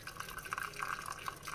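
Cooking water drained off boiled bottle gourd dal trickles into a bowl, a soft continuous pouring and dribbling sound at low level.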